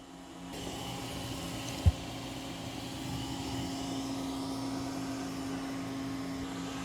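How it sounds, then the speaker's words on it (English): A Dreame L60 Pro Ultra robot vacuum runs across a room with a steady, even whirring hum, joined by a single sharp knock near the start and no talking. "It's going to vacuum and mop this room twice."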